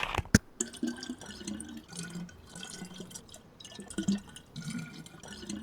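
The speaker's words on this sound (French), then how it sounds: "il y a une petite fontaine ici, on va remplir nos bouteilles d'eau là" Water splashes and drips from a small outdoor drinking fountain as water bottles are filled, an uneven trickle with a few sharper knocks near the start, heard alone without talk.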